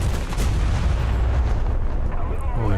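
Torpedoes launch from a warship in a naval video game: a dense rolling series of booming blasts and rumbling detonations, loud and continuous over the whole span, with a faint voice near the end.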